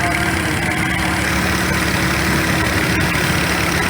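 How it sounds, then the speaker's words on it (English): A heavy vintage tractor engine idles steadily with a low, rumbling chug that holds constant throughout, at an old engine show parade. "Now here's a tractor that I didn't know existed until today."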